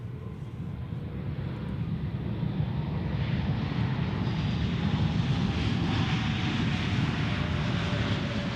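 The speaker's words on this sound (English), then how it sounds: "While we see a replay of an A320neo of Swiss." A Swiss Airbus A320neo landing at Zurich Airport gives a continuous broad jet roar that swells gradually over several seconds, steady and fairly loud with no talk over it.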